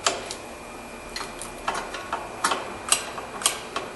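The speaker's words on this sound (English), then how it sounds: "And you'll hear it clicking." Brake star adjuster on a rear drum brake of a 2001-2005 Honda Civic being turned, giving a series of sharp, close ratcheting clicks at an irregular pace, growing slightly louder toward the end.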